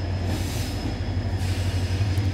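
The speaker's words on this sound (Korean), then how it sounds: "경전선 첫 기차가 아침을 깨웁니다." The first morning Gyeongjeon Line train runs near Samnangjin, a small South Korean town, with a steady close rumble of wheels and rails and a faint high squeal, loud and continuous with no voices.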